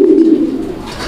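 A single pigeon gives a close, loud, low throaty coo that swells and trails off over about a second, heard alone.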